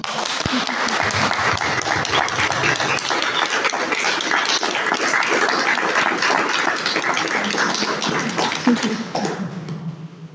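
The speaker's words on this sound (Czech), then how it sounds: "teď nevím, jestli jsi slyšela potlesk, ale to byl pozdrav pro tebe" Sustained applause from an audience at a community talk about farming families' histories, dense and steady for about nine seconds before trailing off at the end.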